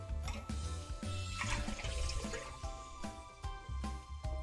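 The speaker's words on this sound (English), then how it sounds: "So let's go ahead and put the milk into the pan." Milk being poured into a pan while making custard, a close liquid splashing and trickling with a few knocks, fairly faint, with no talk.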